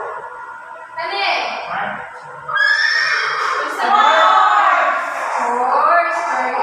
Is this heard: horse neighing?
yes